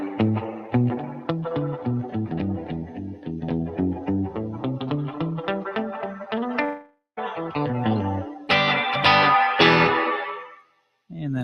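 Electric guitar played through a Universal Audio effects pedal with the treble rolled fully off gives a dark, distorted, chorused tone, a run of picked chords and notes ringing out with brief pauses.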